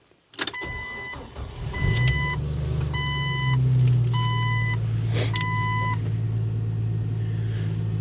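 A door slams shut before a car engine starts and settles into a low idle rumble, while a chime beeps in four evenly spaced bursts and a brief clunk falls midway, close and without talk.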